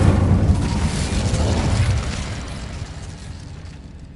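An Incendio fire spell in Hogwarts Legacy goes off as a loud, booming blast that rolls on for about two seconds, then fades into a quieter, lingering rumble.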